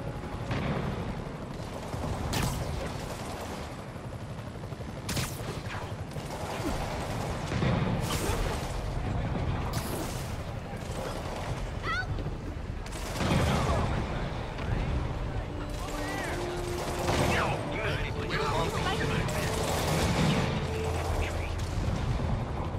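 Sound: gunfire in Marvel's Spider-Man video game

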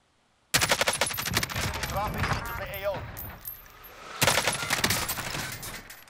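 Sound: sniper gunfire in Call of Duty Modern Warfare video game

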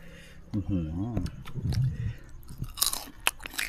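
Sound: eating crispy fried crab

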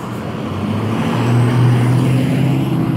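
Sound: big truck passing by

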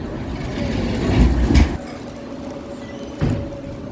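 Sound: tram passing by on a city street

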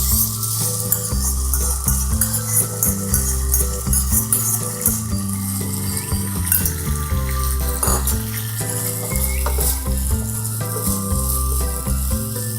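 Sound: sauce poured into hot pan, sizzling

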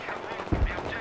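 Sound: gunfire in video game Battlefield 3

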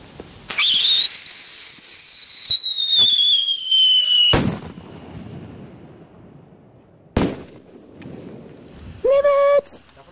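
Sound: whistling New Year's Eve firecrackers and fireworks

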